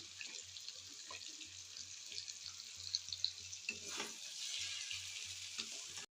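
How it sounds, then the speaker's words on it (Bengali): Chow mein noodles are tossed and fried in a hot pan, giving a soft continuous sizzle with scattered scraping and stirring clicks at moderate distance, and no talking. "আমি মিক্স করি চাউচাউটা দিয়ে।"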